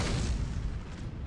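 Heavy blast cannons in the mech combat game Starsiege firing a dense, continuous booming barrage, loud and close, with no speech.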